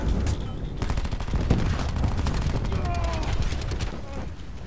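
Rapid bursts of automatic gunfire crackle through a Call of Duty: Black Ops 4 match, dense overlapping shots firing near and loud in quick fusillades, with game sounds beneath and no clear talk.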